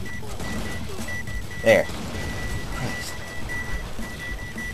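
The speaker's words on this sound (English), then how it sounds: "Ay Christ, I hear the beeping!" Repeated electronic beeps in the video game Foreign Legion: Buckets of Blood pulse in a steady rhythm beneath game sounds and a speaking voice.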